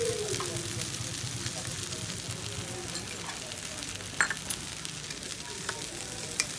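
Potatoes and green tomatoes frying in a pan, a steady soft sizzle with occasional scrapes of a spatula, and someone talking over it.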